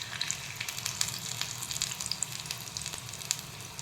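Green corn bhajiya pakoras frying in oil over medium heat, a continuous close crackling sizzle with scattered pops and bubbling.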